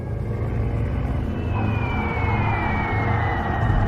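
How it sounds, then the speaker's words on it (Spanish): Air raid sirens wailing during wartime bombing in Normandy, a loud sustained siren tone that slowly falls in pitch over a heavy low rumble. "Sirenas y alertas suenan día y noche."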